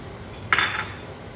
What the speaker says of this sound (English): So here goes the marinade sauce. Scrape, get everything in.